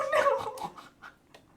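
A dog whimpers and yips in a string of short, high, plaintive cries that start loud and close and then fade into softer, sparser whines.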